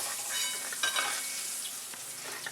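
Paneer pieces fry crisp in hot oil for chilli paneer, giving a bright, steady sizzle with crackling spatters and occasional stirring clicks close by. No one talks.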